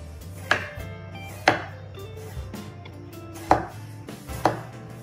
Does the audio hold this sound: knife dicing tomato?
yes